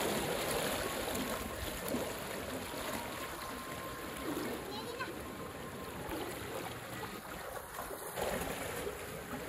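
Swift floodwater current rushing through a flooded area, a broad continuous roar of churning water filling the scene at steady loudness, with faint voices in the background.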